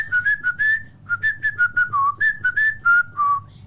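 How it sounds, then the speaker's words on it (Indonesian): A person whistles a short tune in clear, bright notes, a quick run of separate pitches with small slides between them, close and alone without talk. "Aku udah lama gak siul."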